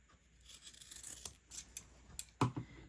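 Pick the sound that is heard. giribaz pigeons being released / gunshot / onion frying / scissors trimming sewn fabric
scissors trimming sewn fabric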